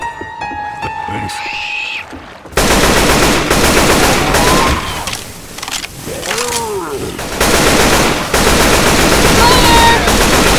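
Sustained automatic gunfire in the Left 4 Dead 2 video game, loud and dense almost throughout after a quieter opening, with shouted voices mixed in over the shooting.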